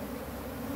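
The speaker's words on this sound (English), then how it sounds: "Any bees that are still in will stay there for a week and they won't like that." Honeybees buzz around a hive being split in June, a steady close droning hum with no pauses through a short moment.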